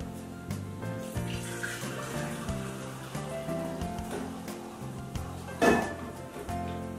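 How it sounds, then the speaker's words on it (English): Warm water runs and splashes steadily into a pot while music plays underneath, with a brief louder splash near the end. "and pour in some warm water."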